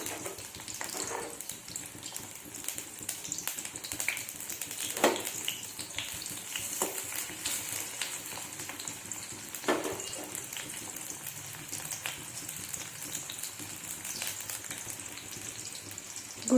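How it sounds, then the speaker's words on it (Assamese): Chopped onions fry in hot oil in a home kitchen, giving a steady, close sizzle that runs unbroken throughout, with occasional soft stirring clicks. "এতিয়া মই ইয়াত দি দিম কাটি থোৱা পিঁয়াজখিনি মই অলপ টাইম ভাজি ল'ম"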